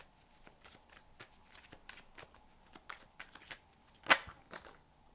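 Playing cards shuffled by hand at close range, a quiet run of soft riffling flicks and slides with one sharper snap near the end, with no talk.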